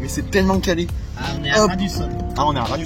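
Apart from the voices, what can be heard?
No everyday noise stands out behind the speech.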